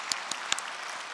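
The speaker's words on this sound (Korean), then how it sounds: "우리 서로를 위하여 축복의 박수 보내셨으면 좋겠습니다" A church congregation claps together to bless one another, steady broadband applause filling the room for about a second with a few sharper individual claps standing out, no voices on top.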